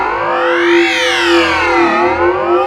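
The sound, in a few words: psychedelic synth sound from Serum 2 with hall reverb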